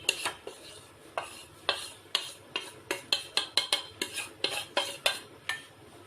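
A spoon knocks and scrapes around a bowl while stirring a batter mixture for crispy fried cauliflower, a series of sharp clinks in an uneven rhythm, close and fairly faint.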